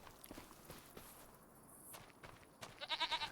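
Goats bleat in the farming video game Farming Simulator 25, a short run of close, pulsing bleats near the end, preceded by soft footsteps over quiet ambient noise.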